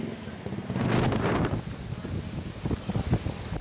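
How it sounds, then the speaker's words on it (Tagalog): Strong gusting wind from Typhoon Opong along the coast of Northern Samar buffets the microphone with a rushing roar, swelling early and then settling into choppy, turbulent bursts. "Kusog ang paghaguro sa hangin, nga daw mga tumba na ang mga punuan sa kahoy ug mga lubi."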